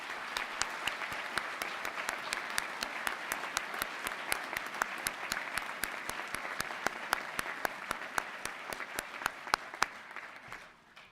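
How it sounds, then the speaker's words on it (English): Sustained applause at a college commencement ceremony honoring educators, a large audience clapping steadily for about eleven seconds, slightly distant and even, tapering off at the end. "extending a most deserved round of applause to this college's outstanding group"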